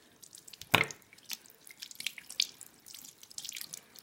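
Water trickles and drips in a sink as makeup brushes are rinsed, a faint, irregular patter of small splashes with one sharper splash near the start, no voices.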